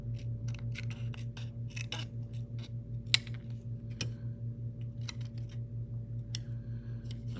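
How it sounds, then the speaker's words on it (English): Scissors trimming a fuel tank piece from a Hack Fab Mini-B sprint car kit: a series of small, crisp snips and clicks, close up, set against a steady low mechanical hum, with no talking. "It's just this little trimming of this fuel tank."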